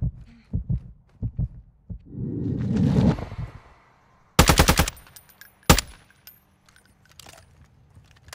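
Gunfire in Call of Duty Warzone 2.0 DMZ, a sharp rapid burst of shots followed by a single loud crack, with thuds, rustles and quieter game sounds around them.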